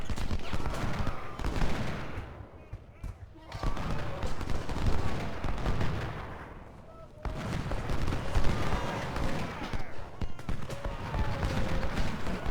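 Cannon and rifle fire in the Civil War strategy game Ultimate General: Civil War, with dense rolling volleys and scattered shots continuing throughout and dipping briefly twice amid the din of battle.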